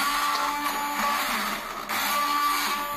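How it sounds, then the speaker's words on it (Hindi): A hand blender beats softened tomatoes and onions, a steady close whirring drone with one brief dip before it resumes, no talking. "अब मैं इसे हैंड ब्लेंडर से जो है ना बीट कर रही हूँ।"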